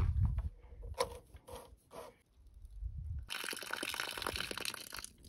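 Well water runs through an RV water filter, first dripping and trickling in irregular spurts, then gushing in a steady, fairly close stream for the last couple of seconds.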